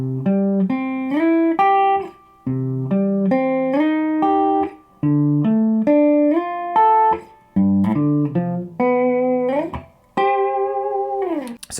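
Slow, easy guitar example alternating strummed chords with stepwise arpeggiated notes, clear and close, in several repeated phrases ending on a sustained chord, with no talking over it.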